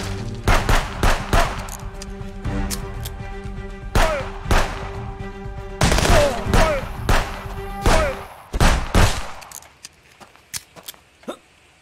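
Gunfire in the video game Contraband Police, a series of sharp shots, some in quick bursts, with tinny casing clinks, followed by sparse single shots as the firing dies away.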